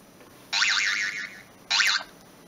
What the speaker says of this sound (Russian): Стандартный сигнал сообщения